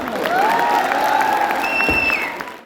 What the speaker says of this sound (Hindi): ताली थोड़ा जोर से बजाओ यार